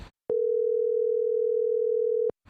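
A telephone dial tone plays as a call is placed: one steady, loud, unbroken tone lasting about two seconds with short clicks at its start and end, and no voices.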